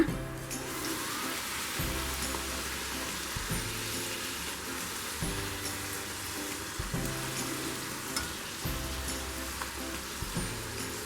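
Wheat poori frying in hot oil gives a soft, continuous bubbling sizzle like light rain, with a low knock recurring every second or two as the dough is pressed down to puff; no voices.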